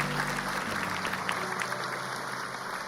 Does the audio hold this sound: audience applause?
yes